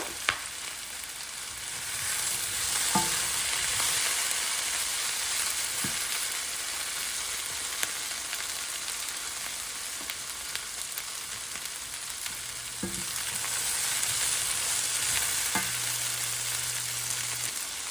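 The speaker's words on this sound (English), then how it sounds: "now it's the perfect time to add the veggies, the chopped veggies." Chopped vegetables frying in a pan with tomato masala give off a steady, fairly loud sizzle that holds throughout, broken by a few soft stirring knocks, no voices.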